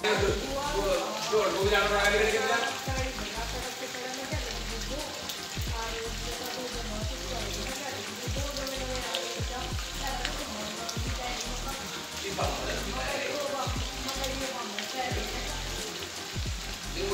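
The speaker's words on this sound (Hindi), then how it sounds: "ये देखो तीन चार दिन से लगातार बारिश हो रही है" Steady rain patters on a hard surface, dense drips and splashes continuing throughout, fairly close and even in level.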